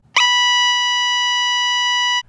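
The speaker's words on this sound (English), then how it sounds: "They can do your normal siren tone," A loud, steady electronic security system siren in its standard tone holds one pitch for about two seconds, then cuts off abruptly.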